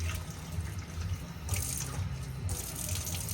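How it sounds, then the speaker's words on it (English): Lukewarm water runs steadily from a tap into a container while tie dye is being mixed, a continuous splashing flow heard up close with brief surges, and no talk over it. "add some water there. Sort of lukewarm water."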